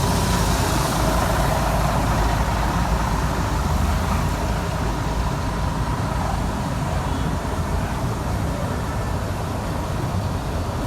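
Niazi Express and Skyways buses at the Sargodha bus terminal: a steady, dense rumble of engines and traffic, loud and continuous throughout with no clear talk.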